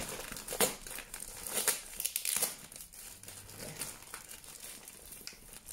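A package sealed with scotch tape is opened, with crinkling and tearing of tape and cardboard in irregular bursts, some sharp rips and rustles close by at moderate loudness, and no one speaking.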